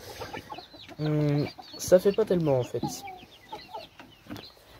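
Farm chicks and chickens cheep and cluck in a group of about thirty young birds, with a sustained loud call and scattered peeps, close by, while someone speaks in French.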